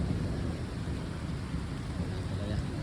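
Steady rain on a wet road on a rainy morning, a dense even hiss with low rumble that runs unbroken and fairly close, with no voice heard.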